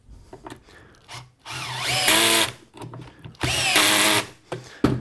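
A power drill drives a pocket hole screw into a wooden table frame in two loud whining runs, pitch rising and falling as the screw bites, with clicks and handling noise in between.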